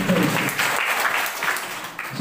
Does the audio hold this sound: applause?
yes